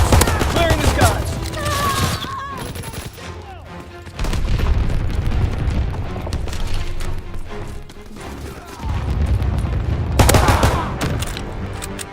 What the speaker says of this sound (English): Anti-aircraft battery in position. Ready to deny the skies on your order.